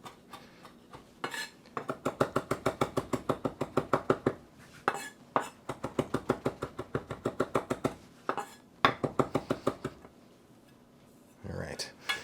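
Kitchen knife rocking back and forth on a cutting board, producing rapid, evenly spaced clicking taps in several quick bursts with short pauses between, close and distinct.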